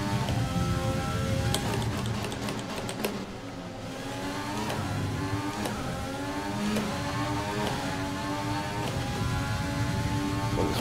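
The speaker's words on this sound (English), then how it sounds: "this Renault sounds weird" A Renault Formula 1 car in the racing game F1 2020 wails at high revs, its engine pitch climbing and dropping repeatedly through gear changes, loud and continuous throughout.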